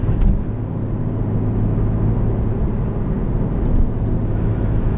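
A 2014 Porsche 911 Carrera with a manual gearbox and flat-six engine gives a steady, dense induction drone heard from inside the cabin, a continuous low rumble with slight swells and no voices.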